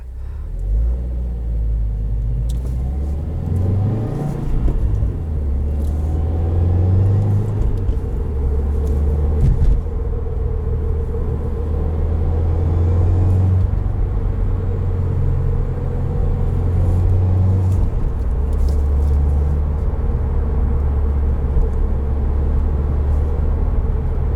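A 2020 Subaru WRX Limited with manual gearbox and flat boxer engine drones steadily from inside the cabin, its low rumble rising and falling with gentle revving as the car drives.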